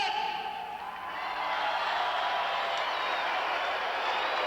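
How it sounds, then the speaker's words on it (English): A crowd at a 1986 monster truck show greets the truck First Blood with a steady wash of distant applause and murmuring that holds at an even level, broad and diffuse, with no single voice standing out. "First Blood, not drawing the applause he'd like to"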